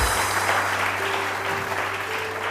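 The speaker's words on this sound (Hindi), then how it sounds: "इनके लिए बहुत सारी तालियां।" A television morning-show studio audience claps continuously, the thick, even applause sustained without breaks from start to end.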